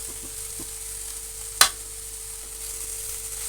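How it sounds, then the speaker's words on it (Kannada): Fried cauliflower (gobi) tossed into a pan of cooked-down tomato masala for gobi pepper dry gives one sharp burst of sizzle, then a low, quiet simmering hiss. "ಗೋಬಿ ಹಾಕ್ತಾಯಿದ್ದೀನಿ, ಫ್ರೈ ಮಾಡಿದ್ದು"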